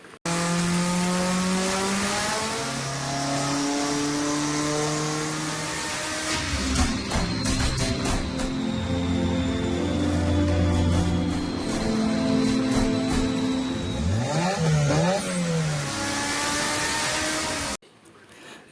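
A tuned Subaru rally car engine revs hard and loud, rising and falling in pitch through several throttle bursts, ending with a sharp sweeping rev before cutting off.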